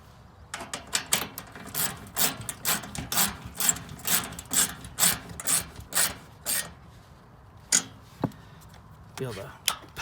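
A hand ratchet tightens locker bracket bolts on a two-door Jeep JL: a fast run of sharp, evenly spaced clicking strokes up close, then a few slower separate clicks.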